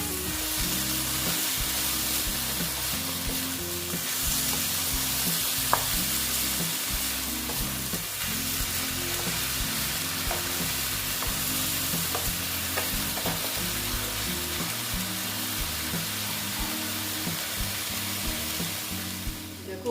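Banana flower and potato stir-fried slowly in a pan with salt, a steady close sizzle with continuous scraping and stirring of a spatula throughout, no voices.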